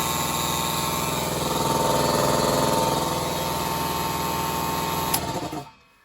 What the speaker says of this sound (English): turn on the air compressor